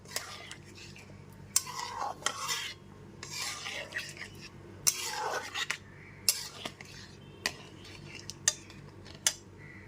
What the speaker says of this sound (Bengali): জলটা দিয়ে খুব ভালো মতো মিশিয়ে নিচ্ছি